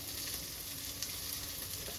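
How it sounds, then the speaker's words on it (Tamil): Pot of nombu rasam boiling on the stove, a steady close bubbling and sizzling hiss that holds evenly without pause. "ரசம் இப்படி கொதிக்குது பார்த்தீங்களா?"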